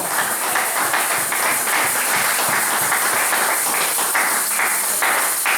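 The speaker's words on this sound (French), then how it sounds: "Acclamez Jésus." A church congregation claps in dense, loud, sustained applause that keeps a steady level throughout, with faint rhythmic emphasis in the clapping.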